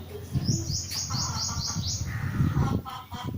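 Small birds in a home garden chirp repeatedly in quick, bright bursts, with a clustered run of rising tweets followed by further calls over soft background noise.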